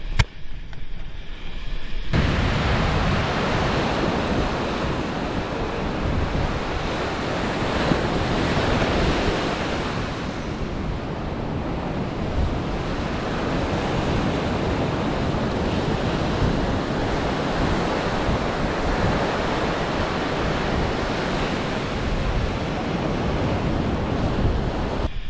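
Ocean waves and surf roll continuously at Gunnamatta Surf Beach, with a loud, dense wash of breaking water mixed with wind buffeting the microphone for the whole stretch and no talking.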